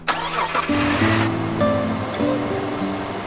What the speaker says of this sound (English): which suggests there's a problem with the exhaust. And basically the muffler is cracked.